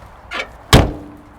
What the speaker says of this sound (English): And the door opens and closes.